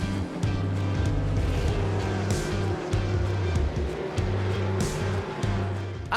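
Audi TCR race car engine droning on track during a 12-hour endurance race in Kuwait, a steady loud roar with shifting pitch and small gear-change dips, joined by other engine noise throughout.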